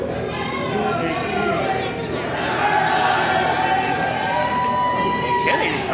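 Wrestling event crowd at WrestleRave making a steady, dense roar of cheering and chatter that swells slightly midway, loud and continuous, with voices mixed through it.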